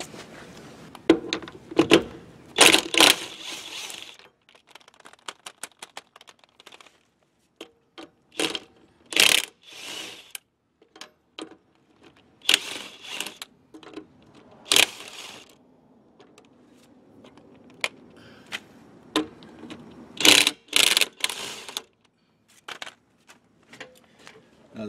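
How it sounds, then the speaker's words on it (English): Impact wrench loosening the wheel bolts on a 2004 pop-up camper, heard as a string of short, loud rattling bursts with quiet gaps between them, up close and with no talk. "I'm gonna go ahead and get my impact, take the bolts off"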